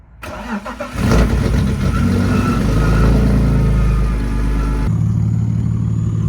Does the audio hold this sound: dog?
no